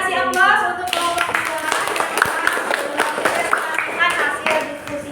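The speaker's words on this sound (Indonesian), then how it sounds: "Silakan kasih aplaus untuk kelompok" A classroom group finishing a presentation gets brisk hand clapping from students, several people clapping at once, close and lively, with a voice speaking over the start.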